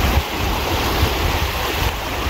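Water rushing through the Bhagra canal in Ropar district, a steady broadband roar with low rumbling and some wind buffeting the microphone, continuous and close, with no one speaking.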